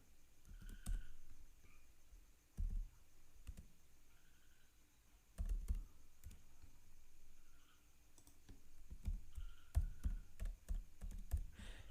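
Code is typed on a computer keyboard in quiet bursts of clicking keystrokes separated by pauses, close but soft, with a faint background hum.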